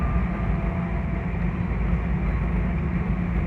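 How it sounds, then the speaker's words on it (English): Steady low rumbling vibration fills the cabin of an old, nearly 40-year-old Caltrain Gallery rail car, a dense continuous drone with faint rattles, constant and close throughout with no talking. "There's a lot of vibration in this cabin."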